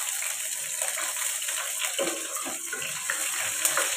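Radish and potato pieces fry in hot oil in a large wok, giving a steady, close hiss with crackling spatters and no talk over it.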